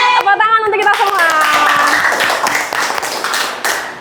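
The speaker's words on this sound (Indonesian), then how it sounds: "Tepuk tangan untuk kita semua." A classroom group of students claps together after a call for applause, a dense patter of hands under a sung or called-out voice at the start, fading toward the end.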